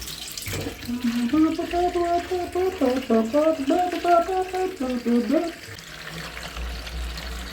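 Water pours steadily from a tap into a container for mixing engine coolant on a Honda Civic FD1 R18 build, with a wavering tone that rises as it fills, then stops.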